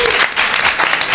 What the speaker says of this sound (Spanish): Recibimos con un fuerte aplauso y cierto miedo a un secuestro judicial a Edu Galán y Edu Bravo de Revista Mongolia